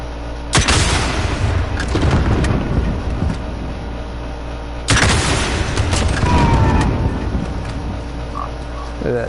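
Two heavy explosions in a video game, each a sudden loud boom followed by a rumbling, crackling tail, spaced about four seconds apart, with continuous background game noise.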